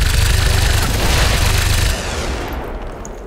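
Dense gunfire in the video game XCOM 2, a loud rapid barrage of rattling shots and booms that cuts to a quieter rumbling tail partway through.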